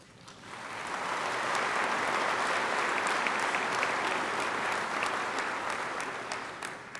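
Steady audience applause at a political speech by Senator John McCain, swelling in after a brief start and holding as a dense, even wash of clapping before easing slightly at the end.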